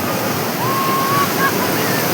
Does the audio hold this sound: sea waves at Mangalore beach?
yes